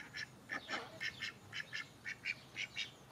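Ducks on a breeding farm quack in a quick run of short nasal calls, about a dozen bursts in loose rhythm, fairly near but soft against a quiet background.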